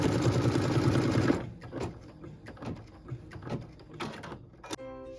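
A sewing machine stitches a looped flower quilting pattern in a dense, rapid run for just over a second, then stops, leaving scattered clicks and soft handling sounds of fabric and machine parts.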